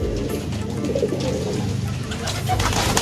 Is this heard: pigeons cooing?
yes